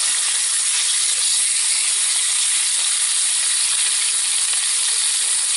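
A ribeye steak sears on a cast iron skillet, a loud, steady hiss of sizzling fat and juices held up close for several seconds without a break.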